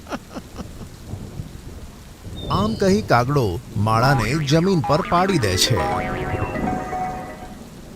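Heavy rain pours steadily, with low rolls of thunder, beneath a storyteller's narrating voice.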